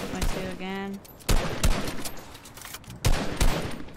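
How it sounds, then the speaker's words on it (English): Gunfire in the video game Fortnite: three sharp bursts of shots spaced across a few seconds, loud and close, with a brief voice heard near the start. "They're shooting."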